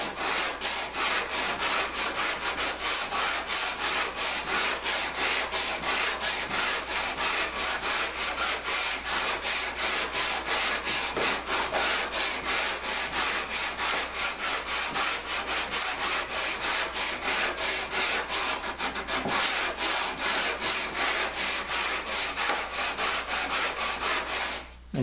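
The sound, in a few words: hand sanding wood with sanding block and sandpaper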